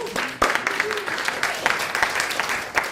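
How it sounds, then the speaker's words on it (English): Audience applause for a speaker named Ben after his introduction, a dense steady clatter of many hands lasting throughout, with a voice talking over it near the start. "Let's give Ben another round of applause."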